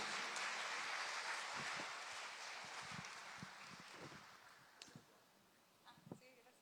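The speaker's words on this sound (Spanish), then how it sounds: "Un fuerte aplauso para Abril" Applause from a live conference audience swells and then fades, the dense clapping dying down into scattered claps and rustling.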